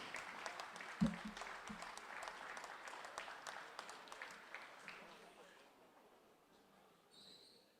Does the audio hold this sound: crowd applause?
yes